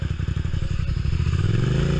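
A motorcycle out on a ride throbs with a loud, close engine pulse that rises slightly in pitch as it speeds up, and no voice is heard.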